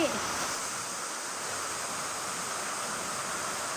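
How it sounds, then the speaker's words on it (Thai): Water pours strongly over rocks at a waterfall, a dense, steady rushing roar that fills the whole stretch without pause, heard close and loud. "มีน้ำไหลแรงมากเลยนะคะ ด้านบนเป็นก้อนหินนะคะ ก็เป็นน้ำตก"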